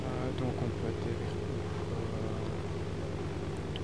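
Aircraft engine in DayZ as the plane comes down to land in a field: a steady, loud droning propeller hum with no letup throughout.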